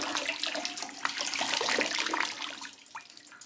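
Water poured over a person bathing in a wooden barrel in an unheated room on a Victorian farm, splashing and running down in a continuous wash that tapers off toward the end.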